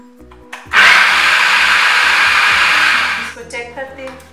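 An electric food chopper whirs loudly for about two and a half seconds, blending chicken burger patty ingredients with vinegar, its steady motor roar starting abruptly and winding down, with quieter handling sounds before and after.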